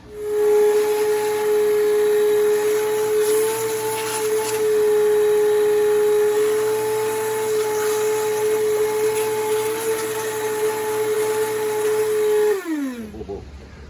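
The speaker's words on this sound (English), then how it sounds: "We'll give that a good vacuum before we start reassembling." A vacuum cleaner runs steadily with a loud whining drone, close by, cleaning a T1N Sprinter engine during head gasket repair, then powers down and winds off near the end.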